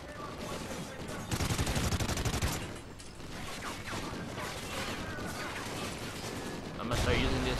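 Gunfire in Call of Duty: Ghosts, with a dense burst of rapid automatic shots early on, scattered shots and clatter in the middle, and another burst near the end, while a player talks over it.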